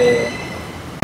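A metro train arriving at the platform hums and whines with a high steady tone, ending in a sudden loud rush of noise.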